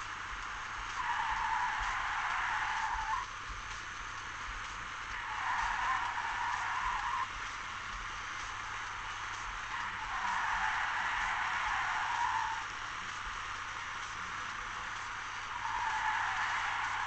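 Tyre skids from a car in the racing game Need for Speed Shift on PSP come in four sustained screeching bursts of about two seconds each, spaced evenly over a steady engine drone.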